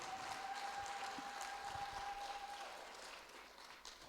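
A church congregation applauds and cheers in praise during a French-language service, steady, dense clapping that fills the room and gradually thins toward the end, heard from a moderate distance.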